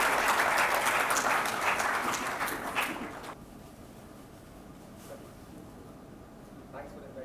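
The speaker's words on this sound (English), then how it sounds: "Can we all give a better round of applause?" A round of applause at a Jio True 5G launch event, a crowd clapping loudly that dies away after about three seconds, leaving quiet room noise with a few faint stray claps.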